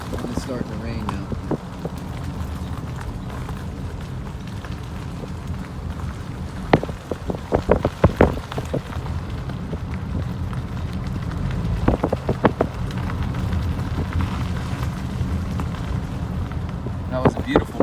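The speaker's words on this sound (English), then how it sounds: "It's starting to rain now." Rain falls outdoors at a meadow in the Rydell Wildlife Reserve, a steady patter on surfaces lasting throughout with scattered louder drops and taps, while a voice comes through at times.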